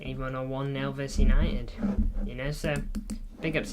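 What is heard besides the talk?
No distinct noise like a dog, phone or traffic.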